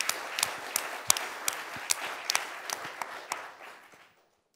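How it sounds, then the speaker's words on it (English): Audience applause for a presenter at a talk on data services in mining: scattered hand claps with a few sharp, distinct ones, fairly quiet, tapering off and ending in silence after about four seconds. "I think Lin maybe deserves a round of applause for"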